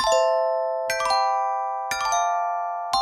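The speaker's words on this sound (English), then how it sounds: "Shall we play the chime?" A podcast chime jingle rings out as a repeated bright bell-like ding pattern, four struck clusters about a second apart, each ringing on with sustained tones, clear and alone.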